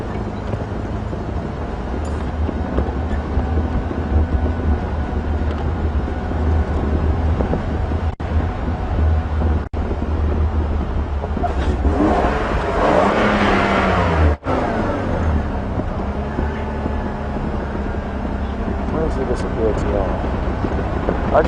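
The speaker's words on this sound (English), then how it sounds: "I just rev loudly like that because I can't chat with the guys on the radio" A safari vehicle's engine revs loudly on a game drive, a strong, steady low rumble with wind buffeting the microphone and a louder surge midway; a voice speaks over it.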